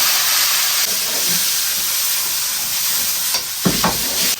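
Egg fried rice stir-fries in an oil-filled wok with scallion, ginger and garlic, a loud, close, constant sizzle with a few sharper bursts of stirring and tossing near the end.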